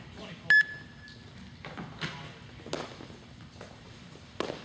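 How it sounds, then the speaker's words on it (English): A workout interval timer gives a short electronic beep near the start, followed by soft thuds and taps of a volleyball player's jumps and landings in a quiet gym. "when she hears this beep, she'll go ahead and start her 40 seconds of work"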